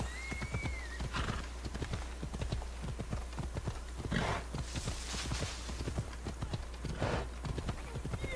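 Rhythmic clip-clop of a horse's hooves trotting at a steady pace in Assassin's Creed Odyssey, continuous and fairly close, with a brief whinny near the start.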